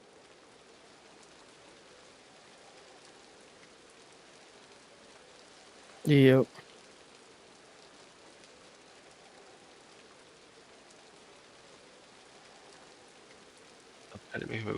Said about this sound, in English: Stop the rain.